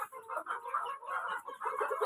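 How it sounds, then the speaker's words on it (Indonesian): Poultry kept by a farmer cluck steadily during feeding, a busy chorus of overlapping clucks and squawks close by with no talking. "Kita beri makan ayam-ayam kita."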